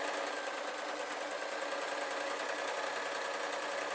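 A sewing machine stitches the fabric hem of a hat, giving a continuous, fast, even buzzing whir at moderate loudness with no pauses across the stretch.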